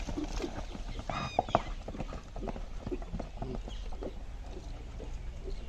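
Hooves of desi horses clip-clop on the ground during show-jumping training, sharp irregular knocks close by, with a brief whinny-like squeal and background noise throughout.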